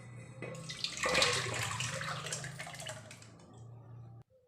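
A gram flour and yogurt mixture for Rajasthani kadhi pours from a small pot into a larger one, a steady wet splashing stream that stops abruptly near the end.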